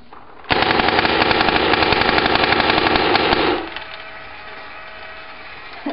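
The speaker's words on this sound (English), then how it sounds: "Now we're gonna do the Etek3 shooting." Planet Eclipse Etek3 paintball marker firing a rapid continuous burst of sharp pops for about three seconds, close and loud, then stopping abruptly.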